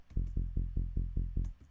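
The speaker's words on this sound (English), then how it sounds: "It's basically just a saw wave with a low pass filter and it's a little bit EQ'd." A dry synth bass pluck from a saw wave through a low pass filter and light EQ repeats in eight quick even notes, each deep, punchy and fast decaying, with a few faint clicks.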